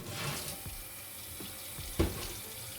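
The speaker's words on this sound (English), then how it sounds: "Just use a little washing up liquid and plenty of warm water to rinse them out" Warm tap water runs steadily into a sink while freezer drawers are rinsed, a continuous close splashing with a few soft knocks of plastic against the basin.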